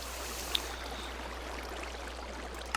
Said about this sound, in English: It's this beautiful waterfall here, so I figured that's perfect.